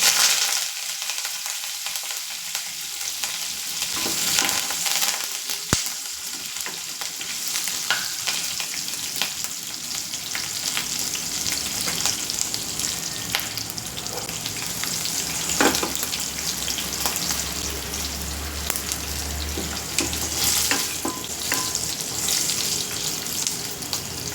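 Green chillies and curry leaves fry in hot oil for a curry, a steady close sizzle with crackling pops and a brief stir, running unbroken throughout with no voices.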